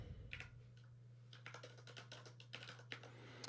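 Close, fairly quiet typing on a computer keyboard plays out as quick clusters of clicky keystrokes with short pauses between bursts, over a constant low mains hum and without any voices.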